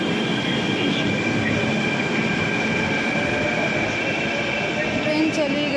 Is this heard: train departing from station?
yes